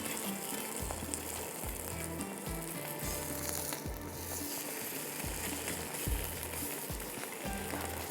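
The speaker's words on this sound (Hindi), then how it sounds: "बस ये लास्ट पराठे को फ्राई करते हैं" A paratha fries in hot oil in a pan, a dense, steady sizzle and crackle that stays loud and close for the whole stretch, with no voices over it.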